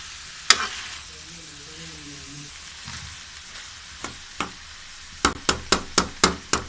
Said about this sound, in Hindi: ये हमने सारी सब्जियां डाल दी है और इसको अच्छे से भूनेंगे।